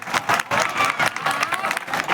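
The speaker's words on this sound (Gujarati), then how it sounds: "તાળીથી વધાવો ભાઈ." Applause from an audience at a devotional Meldi Maa mandvo gathering, dense clapping in repeated bursts filling the whole stretch, fairly loud with crowd noise beneath.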